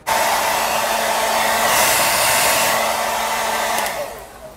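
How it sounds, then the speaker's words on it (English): Hair dryer blowing steadily and loudly for about four seconds while drying sealer on a large 3D printed statue, then winding down at the end, with no talking. "I'm taking a hair dryer and just kind of going over it a little bit."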